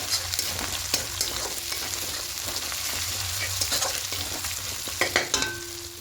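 Cumin and Kashmiri chilli powder stirred into a frying fish curry of rohu (doi katla), a constant low sizzle with scattered close scrapes and taps of a spoon against the pan.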